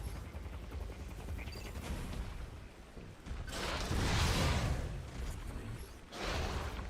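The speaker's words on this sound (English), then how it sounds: "Let's try shooting it with a missile." Missile shots fired in Metroid: Other M, faint bursty blasts and whooshing impacts rising in clusters over a low mechanical background, with no talk.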